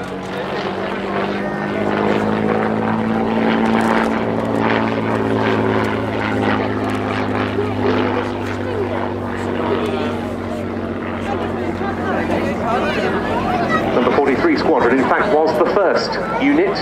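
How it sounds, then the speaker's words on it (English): A Hawker Fury Mk 1 biplane with a 525 horsepower Rolls-Royce Kestrel supercharged V12 piston engine drones steadily and loudly overhead at an airshow, a sustained propeller hum with someone speaking over it. "This Mark 1 has a 525 horsepower Rolls-Royce Kestrel supercharged V12 piston engine."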